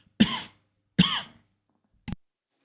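Two close, loud coughs roughly a second apart, then a short throat-clearing burst, from a man during a casual football chat, with no talk over them.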